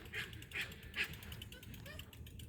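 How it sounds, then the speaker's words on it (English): Small excited dogs yap a few times in the distance, three brief sharp yips early on, faint over steady outdoor background noise. "They're just excited little yappy dogs over there."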